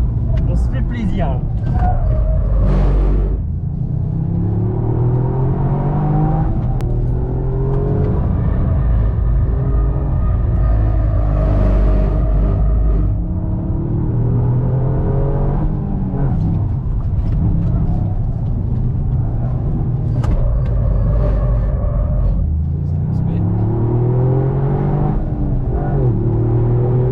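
Toyota Yaris GR driving laps on the Réunion race circuit, its engine revving and rising in pitch through repeated accelerations, loud and close from inside the car, with people talking throughout.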